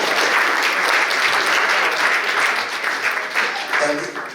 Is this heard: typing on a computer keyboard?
no